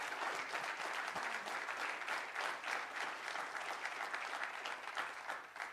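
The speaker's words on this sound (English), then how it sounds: "can the audience just give Sydney a huge round of applause?" Steady, dense round of applause from a civic panel audience for the moderator, distant and fairly faint, continuous throughout.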